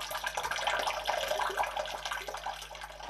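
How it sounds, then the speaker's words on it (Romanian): Water trickles and splashes steadily from a village spring in Vărâncău, Moldova, where locals draw their drinking water, a soft close gurgle that continues throughout with no voices. "Suntem aici la un izvor de unde localnicii se aprovizionează cu apă."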